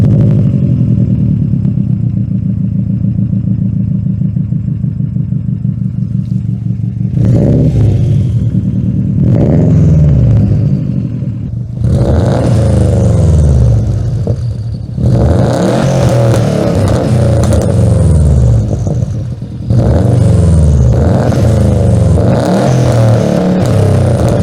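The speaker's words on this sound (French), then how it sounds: "les moteurs boxers, aussi le son d'un moteur boxer" A Subaru WRX's 290 hp turbocharged boxer engine idles with a steady low rumble, then revs hard in repeated loud bursts, each rising and falling, close by with no talking.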